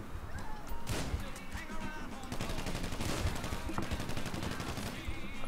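Scattered gunshots ring out during a store hold-up in the video game Grand Theft Auto Online, a few sharp isolated cracks followed by a quicker cluster of shots, fairly faint under a steady game background.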